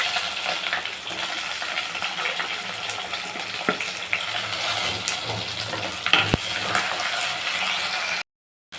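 Onions with fenugreek seeds frying in hot oil for a Bhavani kendai fish and raw mango curry, a steady broadband sizzle with occasional clicks and scrapes, no voices.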